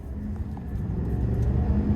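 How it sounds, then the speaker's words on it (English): A 2025 GMC Sierra 2500HD SLE gas pickup truck on the road, its engine a steady low rumble and whir from inside the cab that builds slightly in loudness. "starting the test drive in this 2500 HD, it has a lot of pickup, this gas engine does"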